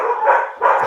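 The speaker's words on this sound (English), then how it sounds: "Sorry, my dogs are being really loud right now." Dogs barking loudly indoors, two sharp close barks in quick succession.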